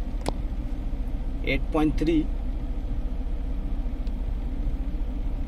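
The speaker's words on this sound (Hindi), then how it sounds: "गाड़ी अपनी अभी चालू है एसी चालू रखा हूँ" Inside a Maruti Ritz with the air conditioning switched on, the engine idles as a low, even rumble, with a few brief voice sounds partway through.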